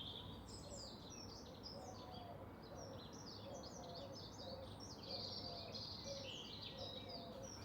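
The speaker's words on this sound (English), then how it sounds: "I came up with this idea of wanting to isolate the song of that blackbird." A blackbird sings faint, fluttering phrases over a steady wash of background noise and distant insect or bird chatter, recorded during the spring lockdown season.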